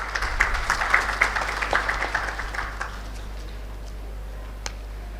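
An expo audience at RailTrans Expo 2024 claps in quick, rhythmic bursts for about three seconds before the applause thins out and fades, leaving a quiet room with one last faint tap.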